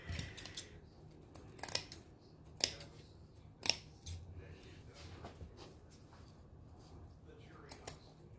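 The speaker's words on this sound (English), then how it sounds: "it was a lot easier for me to cut it with the scissors than it is the X-Acto blade" Scissors snip through craft material for a Dollar Tree bee wreath, a handful of crisp, close cuts spaced irregularly over a quiet room background.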